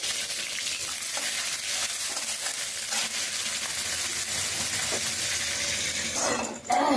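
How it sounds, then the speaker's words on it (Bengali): Chopped onions hitting hot oil with cumin and chili for a chickpea curry, a loud, dense, continuous sizzle and crackle close up, with a brief surge and clatter of stirring near the end and no talking. "এবার এই যে পেঁয়াজ কুচিয়ে রেখেছিলাম, পেঁয়াজ দিয়ে দেবো।"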